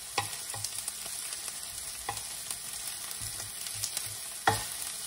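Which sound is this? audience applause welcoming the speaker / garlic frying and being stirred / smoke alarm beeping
garlic frying and being stirred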